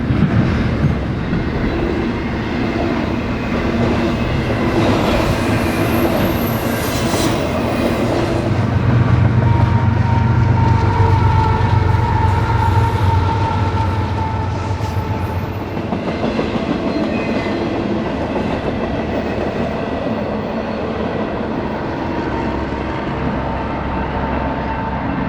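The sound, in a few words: Union Pacific intermodal freight train passing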